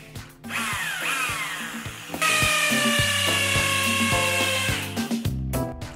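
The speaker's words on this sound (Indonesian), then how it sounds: "Selanjutnya kita buat lubang visor pada kedua titik dengan mata bor." A power drill whirs and bores holes for a visor, pitch shifting as the bit bites, with a louder sustained grinding stretch midway.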